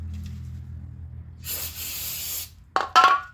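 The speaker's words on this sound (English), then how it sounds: "spray down with some brake clean." A short burst of aerosol brake cleaner spray hissing for about a second during a brake job, followed by a few sharp clicks and clatters nearby.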